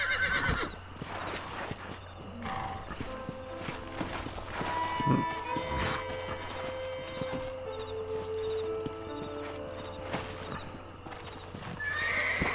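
In the Red Dead Redemption video game, a horse neighs and whinnies loudly while hooves clip-clop steadily beneath, over a constant game-ambience drone and scattered electronic tones.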